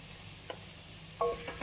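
Cumin seeds frying in hot oil with garlic and ginger give a soft, steady sizzle, broken by a few light scrapes of a stirring spoon in the pan.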